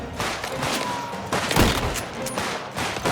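Repeated pump-action shotgun blasts in a mafia video game, loud and dense, firing one after another over continuous game noise, with the heaviest burst near the middle.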